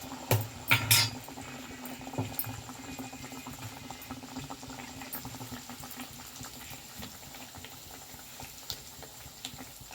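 Nan puri dough deep-fries in hot oil with a continuous bubbling sizzle, and a few utensil clinks sound near the start.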